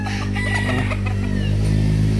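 A gamecock rooster crows loudly and close by, one drawn-out call heard over a steady low background hum.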